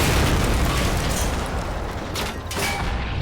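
Artillery explosions from the World War II strategy game Men of War: Assault Squad 2 on the Eastern Front destroy a German Tiger tank, a loud sustained roar of blasts and rumbling debris with no speech.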